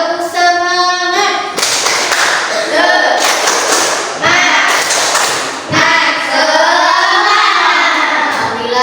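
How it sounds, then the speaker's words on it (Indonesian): A class of children chants and claps the rhythmic 'tepuk semangat' spirit clap in a classroom, loud and close, with bursts of patterned claps between sung voices. "Tepuk semangat."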